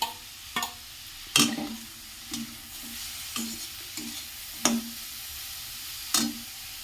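Cabbage with pre-fried garlic sizzles quietly in a pan, broken by several sharp scraping stirs of a spatula at irregular intervals, each followed by a brief hiss.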